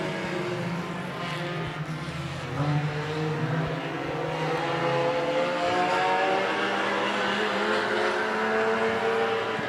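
Race cars roar away on a racing oval at heat races as the green flag drops, a dense, distant engine din that swells and holds for several seconds.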